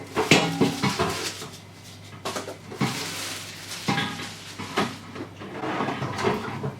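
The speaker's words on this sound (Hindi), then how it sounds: "सिंपली आपने इसको पुल करना है और इसका ड्रॉ जो है रिलीज हो जाता है" A plastic air fryer drawer being pulled open in a home kitchen. Several clattering knocks and scrapes of plastic and metal, close and fairly loud, arrive in short bursts with brief pauses between them.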